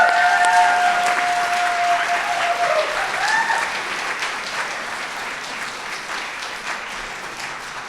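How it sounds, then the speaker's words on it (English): Audience applause fills the room with steady, dense clapping that holds from start to finish, loud at first and easing slightly toward the end, with a brief tonal whistle or feedback tone early on. "So let's give a big round of applause for Stuart Siegel."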